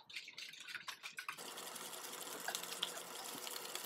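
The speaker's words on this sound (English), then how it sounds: "Dissolve your baking soda in hot water." Hot water pouring and swirling as baking soda is dissolved into it, a steady close splashing wash that starts with a few short splashes and then runs on continuously.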